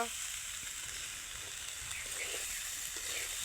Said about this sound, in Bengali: আমি চাউলটা ভেজে নিচ্ছি এই যে ভেজে নিচ্ছি চাউলটা